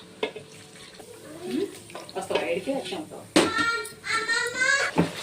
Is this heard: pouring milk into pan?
yes